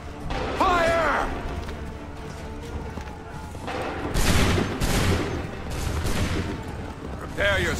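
Musket volley from the Assassin's Creed III video game, a loud crackling burst of massed shots followed by another rolling volley amid battle noise, with shouted voices around it.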